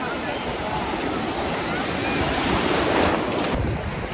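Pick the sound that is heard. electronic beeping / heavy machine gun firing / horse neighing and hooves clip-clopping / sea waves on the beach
sea waves on the beach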